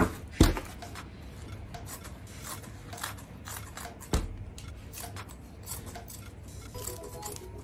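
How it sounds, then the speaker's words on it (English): Scissors snip through Ankara print fabric with a few crisp close cuts and a steady soft rasp of blades on cloth in a quiet room, with no talking. "take a piece of your Ankara fabric, you cut it like so."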